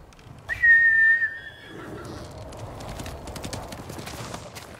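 Rhythmic clip-clop of horse hooves on hard ground in the video game Ghost of Tsushima, preceded by a sharp high whistle, with a steady trotting pattern continuing throughout.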